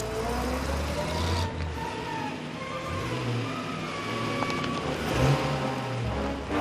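A car's engine hums and rumbles as it drives, a fairly quiet steady low drone with slight rises in pitch, no talking over it.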